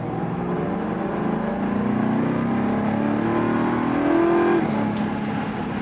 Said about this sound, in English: This is a V8 engine, and giving it a little bit of gas now up to 60